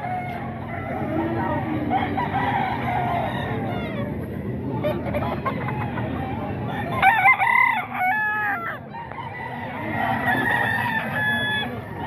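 Gamecock roosters, including street comb and sweater breeds, crow repeatedly with clucking mixed in, moderately near, over steady background noise and intermittent talk.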